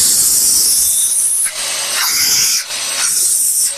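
Loud, close, hissing suction roars from a Bissell Garage Pro wall-mounted vacuum cleaner, its airflow pitch dipping and surging several times as the nozzle is blocked and released.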